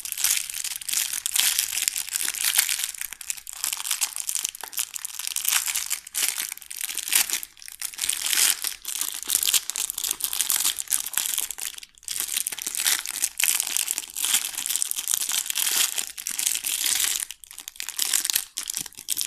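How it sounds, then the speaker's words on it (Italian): A plastic bag is opened and handled close up, giving a continuous loud crinkling and rustling with a few short pauses, no voices over it. "apriamo subito la borsa."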